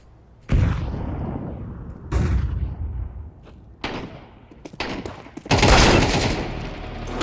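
Loud blasts in Counter-Strike 2 from a thrown grenade: several heavy, booming bursts spaced about a second or two apart, each with a rumbling tail, ending in a bigger, longer roar.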